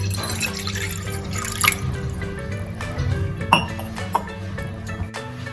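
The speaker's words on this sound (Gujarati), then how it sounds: "એક ગ્લાસ જેટલું આપણે પાણી એડ કરીશું" A glass of water is poured into a bowl on a gas stove over a low flame while cooking instant semolina medu vada, giving close trickling and splashing with a few light clinks of the bowl.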